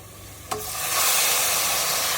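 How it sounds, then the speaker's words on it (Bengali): Minced meat, green chili and cumin powder hit a pan of browned garlic and onion with a sudden clack, and a loud, steady sizzle of frying swells up right after and keeps going. "রসুন আর পেঁয়াজটা ভালো মতন লাল হয়ে গেলে জিরার গুঁড়া, কুটে রাখা মাংস আর কাঁচা মরিচ।"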